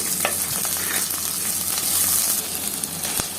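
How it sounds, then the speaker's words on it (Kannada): Onion, crushed garlic and ginger frying in a pan for a Mangalore-style bangda fish curry, a steady close sizzle and hiss with a few faint stirring clinks and no voices. "ಈರುಳ್ಳಿ ಒಂದು ಅರ್ಧ ಹೋಳಷ್ಟು ಈರುಳ್ಳಿ ಹಾಕ್ಕೊಂಡ್ರೆ ಸಾಕು ಸ್ವಲ್ಪ ಫ್ರೈ ಮಾಡ್ಕೊಳ್ಳಿ"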